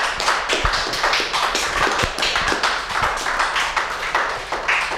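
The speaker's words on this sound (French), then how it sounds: "Applaudissons pour la gloire de Dieu." Church congregation applauding during a worship service, a dense, steady stream of many hands clapping that fills the space continuously, with a few sharper claps and light thumps standing out.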